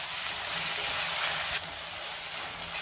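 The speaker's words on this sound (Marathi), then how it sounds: "आता मी टोमॅटो घालते आणि टोमॅटो आपल्याला साधारण 3 ते 4 मिनिटं व्यवस्थित मऊ होईपर्यंत परतून घ्यायचं आहे।" Chopped tomatoes sauté with onion in a hot pan for shev bhaji, a steady soft sizzle and hiss that continues without a break, then drops slightly in level partway through, with no talking.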